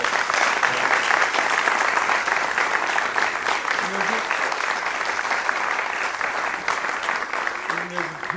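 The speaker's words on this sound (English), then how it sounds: "Applause is going on a little longer than it needs to" A class audience at a Beethoven cello sonata interpretation session breaks into lengthy applause, a dense steady clapping that carries on throughout, with a few faint voices and stray tones underneath.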